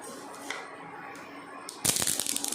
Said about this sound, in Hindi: आप आवाज़ सुन रहे होंगे तड़कने की